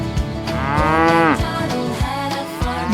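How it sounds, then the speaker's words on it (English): A farm cow gives a long, loud moo with a rising then falling pitch, set against bright cartoon-style music from a children's farm song. "The cow says moo."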